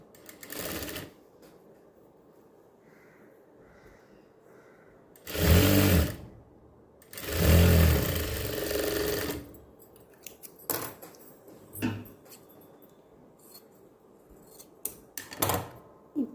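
An electric sewing machine stitches folded cotton-silk fabric for a blouse back-neck design in short bursts, two longer runs of fast whirring stitching between quieter handling noises, clicks and pauses, close up with no talk.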